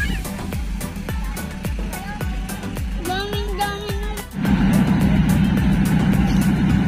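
A truck engine hauling a Pacific fishing boat up by rope during a boat repair gives a low, rhythmic throbbing rumble that grows louder and denser partway through, with faint voices in the background.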